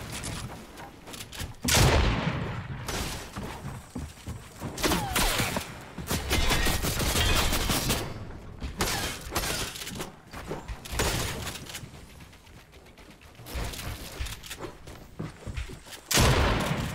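Rapid bursts of gunfire in a Fortnite video game match, sharp cracks and rattling volleys coming in uneven clusters, some loud and close and others more distant, with short quieter pauses in between.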